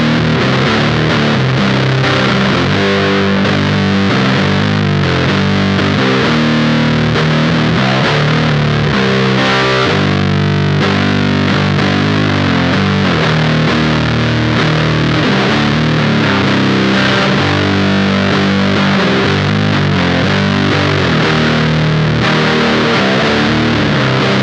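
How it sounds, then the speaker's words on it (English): Electric guitar on the neck pickup through a Beetronics Nectar pedal in fuzz mode with the fuzz cranked, a thick, saturated, sustained wall of distorted chords and notes, loud and continuous with no talking. "let's go ahead and flip over to the fuzz mode and crank the fuzz up and hear how that sounds."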